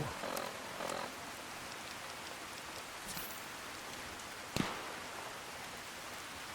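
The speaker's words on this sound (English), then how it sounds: "Rain, rain, rain." Steady video game rain patters on a surface, with a few louder drops and brief crackles over a constant soft hiss.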